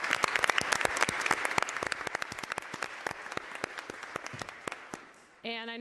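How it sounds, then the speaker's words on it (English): San Francisco Police Department Crisis Intervention Team awardees get a burst of crowd applause at a Board of Supervisors meeting, dense clapping that thins out over several seconds before a voice starts speaking. "Let's give them a round of applause."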